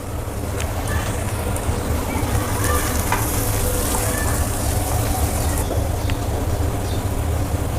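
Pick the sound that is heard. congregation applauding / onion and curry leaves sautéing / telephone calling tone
onion and curry leaves sautéing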